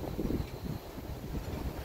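Strong wind buffets the microphone on a high bridge with a continuous low rumble and gusty roar outdoors, with no voices.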